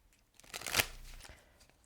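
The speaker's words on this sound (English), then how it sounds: "Just going to shuffle a little bit more" A Rider-Waite Mini tarot deck is shuffled in a single brisk riffle that swells and fades, close and fairly quiet, with no voices.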